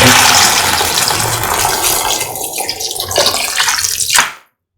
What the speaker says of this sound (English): Pouring 500 ml of water.